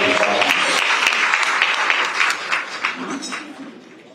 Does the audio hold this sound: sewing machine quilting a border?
no